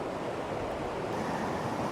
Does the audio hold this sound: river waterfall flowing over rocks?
yes